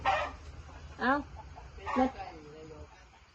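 Chickens cluck in a few short bursts nearby, three distinct calls with quiet gaps between them.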